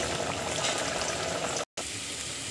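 Potatoes for aloo egg curry frying in oil in a pan, a steady dense sizzle and bubbling that holds level throughout, broken by one brief silent gap near the end before resuming.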